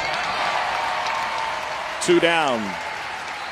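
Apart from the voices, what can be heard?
crowd applauding at baseball game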